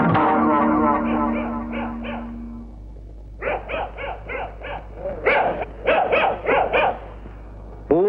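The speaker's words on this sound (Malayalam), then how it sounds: "പട്ടിയുടെ ധർമ്മം കുറയ്ക്കുക എന്നുള്ളതാണ്" A dog in a comedy film scene gives a run of rhythmic, fairly close barks after an opening stretch of steady sound.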